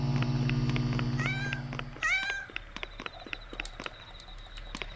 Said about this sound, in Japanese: 猫撫でるってどうすんのこれ